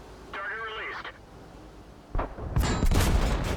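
A Sherman Jumbo tank's shell bounces off a Skoda T25 in a tank battle video game: a sharp, loud burst of impact and gunfire noise near the end, after a brief stretch of radio-like voice chatter.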